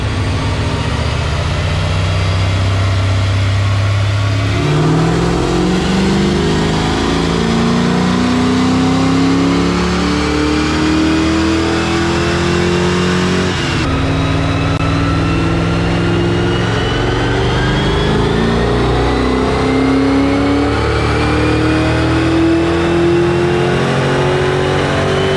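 An LS3-powered Corvette on a dyno, engine climbing through the gears with a loud, rising V8 roar, a brief drop at a shift midway, then pulling hard again to the end.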